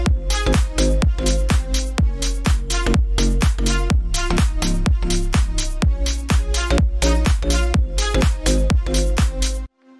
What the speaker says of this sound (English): So it's just like this pretty standard kind of poppy house track,